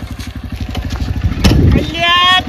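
A motorcycle engine runs close by with a rhythmic low putter that swells in a revving burst near the middle, then settles into a steady drone.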